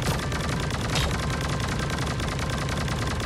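Dense, continuous automatic gunfire from the mobile battle-royale game Sausage Man, with rapid overlapping shots and a sharper burst near one second, loud and steady with no talking.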